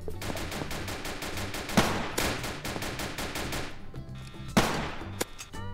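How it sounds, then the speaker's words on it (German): Machine gun fire in the Roblox video game: rapid, evenly spaced shots in sustained bursts, with a couple of sharper, louder cracks standing out, all moderately loud. "Jetzt greift er mich von hinten mit dem Maschinengewehr an."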